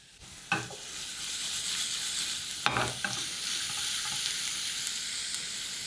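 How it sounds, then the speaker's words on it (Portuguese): Three garlic cloves sizzle steadily in olive oil in a frying pan, a bright continuous hiss broken by a few sharp stirring scrapes and clicks, close and fairly loud. "Vamos refogar três dentinhos de alho nesse azeite."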